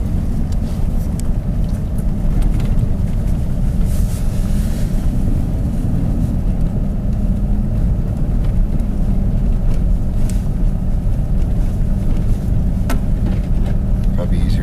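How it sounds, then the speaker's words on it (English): 4x4 truck locked in high range climbing steep sections of a rough backcountry road, a steady loud low engine and drivetrain rumble with bumps throughout, while people talk inside the cab. "right now we have our 4x4 locked in high, so we have full traction. Because there is a couple of steep sections."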